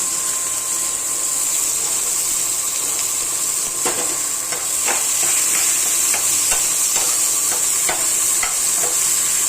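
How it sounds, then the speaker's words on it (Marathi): Chopped onion fries in a pan with cumin and mustard seeds until brown, making a loud, steady hiss of sizzling oil close by, with occasional stirring scrapes and taps over it. "एकदम चांगला ब्राऊन कलर येईपर्यंत कांदा फ्राय करून घ्यायचा."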